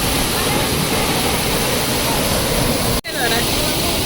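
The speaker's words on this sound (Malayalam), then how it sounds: "വാട്ടർഫോൾ" A waterfall near Thrissur roars with a steady, loud, broadband rush of falling water, continuous throughout except for a brief dropout around the three-second mark.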